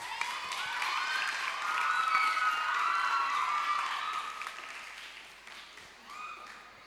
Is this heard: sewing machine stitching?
no